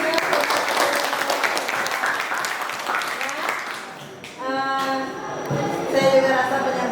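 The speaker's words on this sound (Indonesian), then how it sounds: "Tepuk tangan." Classroom applause from a group of students during a guidance and counseling lesson, a steady wash of clapping for several seconds that thins out as voices start talking over it near the end.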